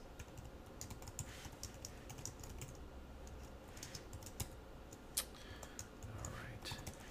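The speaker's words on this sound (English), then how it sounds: "I can speed along my typing" Rapid, uneven clicking of computer keys, typed in quick bursts over a low background hum, close to the listener.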